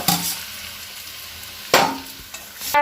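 Dal cooking in a pan while being stirred, a soft constant sizzle broken by a few brief scraping stirs and clatters, with no talking.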